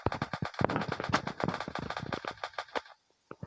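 Rapid automatic gunfire in a video game, a loud, dense stream of shots in quick succession that cuts out briefly near the end before a couple more shots ring out.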